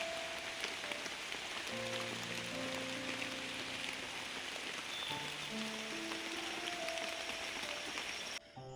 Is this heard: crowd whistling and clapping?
no